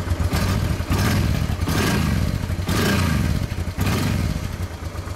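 A motorcycle engine purrs steadily nearby with a deep, throbbing rumble that swells and eases in regular pulses, with no voices over it.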